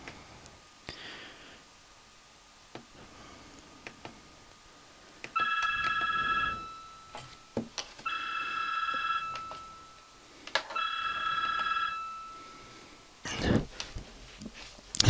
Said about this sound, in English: My phone was ringing.